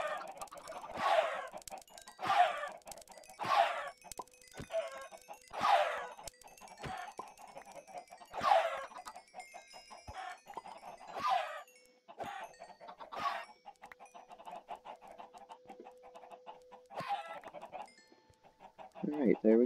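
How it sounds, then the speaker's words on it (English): Chickens in a Minecraft video game chicken farm give repeated clucks and short squawks at an uneven rhythm, some louder bursts among softer ones, with no talk over them. "another thing that I forgot to do is turn off the chicken farm."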